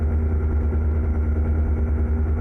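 A truck engine idles in American Truck Simulator with Z-Mod engine sounds on a cattle haul, giving a steady, loud, low throb with an even rumble and no voices.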